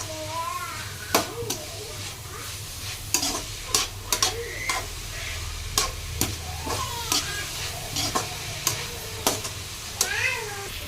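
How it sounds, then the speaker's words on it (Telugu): Sliced onions with turmeric fry in a pan with a steady sizzle as a spoon stirs them, scraping the pan in regular strokes about once a second, with a faint voice in the background. "దీన్ని కూడా బాగా కలుపుకుంటున్నాను."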